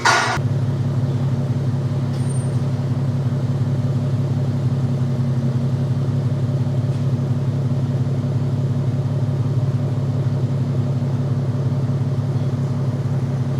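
Infiniti Q50 engine with a Megan Racing Y-pipe exhaust idling, a steady deep rumble that continues evenly and loudly throughout after a brief sharp start, with no talking.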